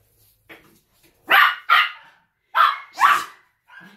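An 11-week-old puppy barks nearby, about five high, sharp yaps in an uneven rhythm, loud against otherwise quiet surroundings.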